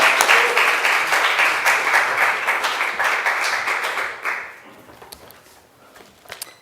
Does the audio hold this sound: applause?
yes